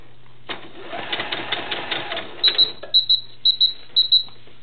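A sewing machine stitching the legs onto a Vanessa Valentine doll, a steady rapid whir for about two seconds, then a run of short sharp mechanical bursts in pairs, close and fairly loud.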